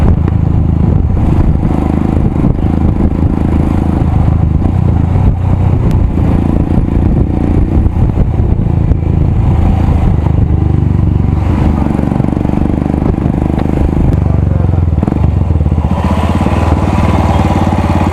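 A Royal Enfield Himalayan motorcycle with a loud aftermarket exhaust rides over bad roads, its engine roaring continuously and loud throughout, close and rough with clattering over bumps.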